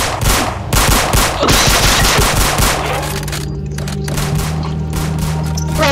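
Rapid automatic gunfire rattles out in a Roblox video game as weapons with infinite ammo are emptied. Dense, loud bursts of shots repeat for several seconds, then give way to a steadier hum from the game.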